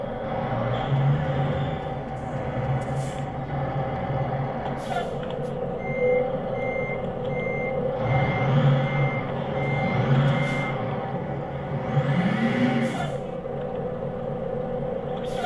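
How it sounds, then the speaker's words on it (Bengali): Reversing beeps from a bus being parked at the roadside in the Bus Simulator Bangladesh game, a repeated steady beep over a constant low engine rumble throughout. "ওকে আমরা এখানে সাইড করে পার্ক করে ফেলি আমাদের বাসটা"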